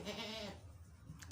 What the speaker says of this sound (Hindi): ये बकरी है।